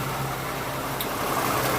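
A 2008 Toyota Sienna minivan engine idling, a steady, even low rumble with a constant hum, close and unbroken.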